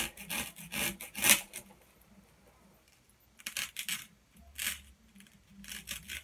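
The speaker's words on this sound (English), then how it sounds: "what I'm getting ready to use now is called a styrofoam knife. And I'm just going to cut off the bottom of this." A styrofoam knife slicing off the bottom of a styrofoam form for a DIY wreath, giving rough, scratchy sawing strokes in bursts with quiet pauses between them.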